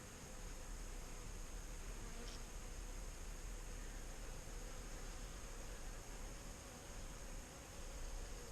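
Honeybees from a package colony crowd over a released queen, a dense continuous hum and buzz filling the whole stretch, close and even, with no talking.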